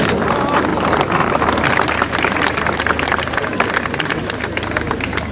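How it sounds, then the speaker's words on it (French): Outdoor crowd applauding at the inauguration of Place Slimane Azem in Paris's 14th arrondissement, a steady, dense wash of clapping sustained for several seconds with faint crowd murmur underneath. "Je vous prie d'applaudir."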